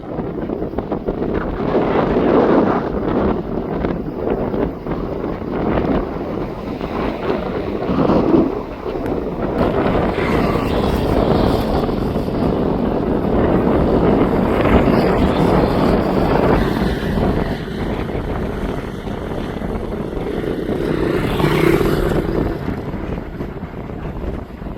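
Strong wind blows along the Mekong riverbank in Vientiane, Laos, as a continuous loud roar that buffets the microphone and swells and eases without pause. No speech is heard.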